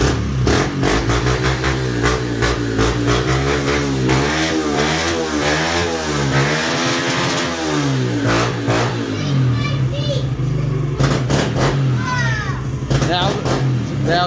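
Yamaha TTR 110 dirt bike with a Pro Circuit exhaust pipe starting up and revving, its engine note rising and falling steadily and loud throughout, with people talking over it.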